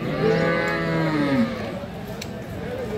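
A dairy cow at a cattle market in Kishoreganj lets out one loud, close moo lasting about a second and a half, then a quieter stretch of background noise follows.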